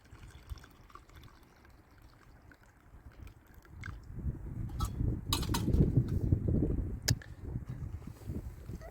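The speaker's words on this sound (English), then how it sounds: "Pour this on in there." Hot water poured from a camp kettle onto instant coffee grounds in a cup at a canyon campsite, a soft liquid gurgle that swells midway and holds for a few seconds with a couple of sharp clinks, close and fairly quiet.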